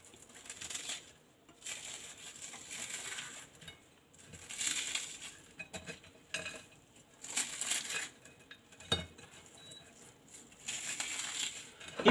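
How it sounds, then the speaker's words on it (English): Dry, crackly crumbling of dry bread by hand in short irregular bursts, close by, with brief pauses between handfuls and no voices. "You can just crumble them down like this."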